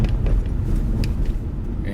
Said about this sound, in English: And more traffic.